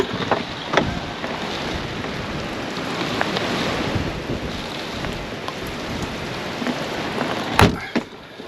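Gale-force wind and torrential rain batter the outside of a vehicle on a Scotland road trip, a continuous roaring wash with gusts buffeting the microphone and a few sharp knocks.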